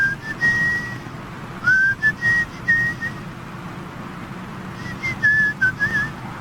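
Someone whistles a short tune nearby in clear, bright phrases separated by pauses, over a low background rumble.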